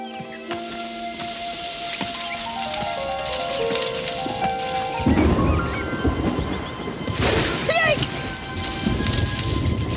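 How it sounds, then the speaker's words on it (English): A cartoon thunderstorm with rain hissing steadily, sustained musical tones and chords layered on top, then a loud thunder crash around the middle followed by more crackling rain and rumble. "with loads of lightning and thunderous thundering and windiferous winds breaking everywhere"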